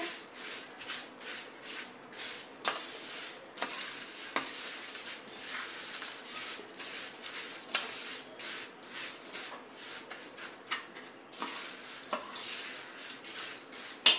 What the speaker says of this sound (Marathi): आता हे चांगल्या प्रकारे मिक्स करून घेऊया.